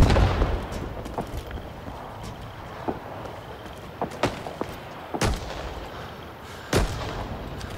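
Gunfire in a Rising Storm 2: Vietnam battle, with sharp shots and distant booms scattered irregularly over a steady rumbling background, some close and loud, others farther off.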